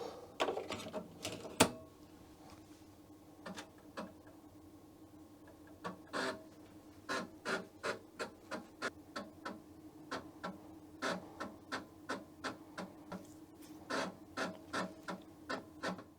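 A Commodore Amiga 1000 floppy drive loads Workbench, giving faint, irregular mechanical clicks and ticks that bunch into quick runs of head steps over a soft background hum.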